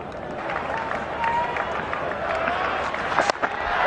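Cricket crowd at Lord's during an England versus India match, a broad steady roar of cheering and applause from a packed ground, rising with a brief louder burst near the end.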